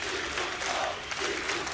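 A home crowd in an esports arena at a CS:GO match at ESL One Katowice 2015 cheers and applauds loudly and steadily, a dense wash of clapping and shouts filling the whole moment.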